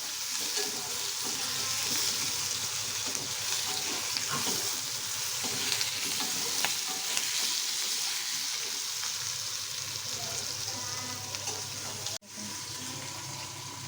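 Green chillies and other ingredients for gota ilish fry together in a pan, a continuous crackling sizzle with occasional stirring scrapes throughout and a brief dropout near the end, no talking.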